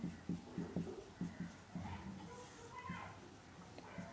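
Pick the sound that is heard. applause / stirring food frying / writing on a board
writing on a board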